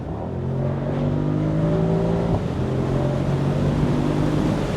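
Maybach SL 680 V8 accelerating, heard from inside the car at speed: a steady engine tone rises, drops briefly as a gear changes, then climbs again under constant wind noise.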